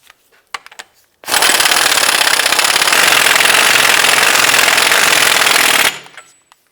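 An impact wrench snugs down the axle nut on a Cadillac DTS front wheel hub, one loud sustained rattling burst of several seconds after a few light clicks, then stopping abruptly.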